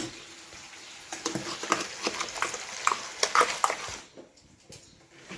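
A spoon stirs a masala mixture frying in a pan, giving intermittent scraping clacks over a soft sizzle; the stirring fades out near the end, leaving quiet.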